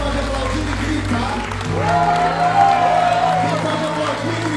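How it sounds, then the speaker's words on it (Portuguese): A church congregation at the AVIVA FLÓRIDA 2023 vigil claps and shouts, loud crowd cheering and whoops over steady applause, with musical tones and voices rising midway. "Quem pode aplaudir e gritar?"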